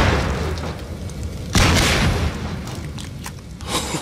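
Bomb explosion in the video game Half-Life 2, a sudden loud boom about midway after continuous rumbling noise, followed by lighter crackling blasts.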